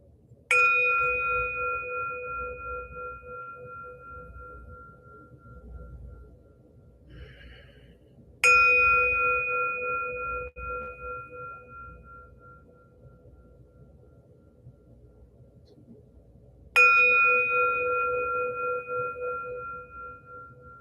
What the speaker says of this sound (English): So I start with a bell as we listen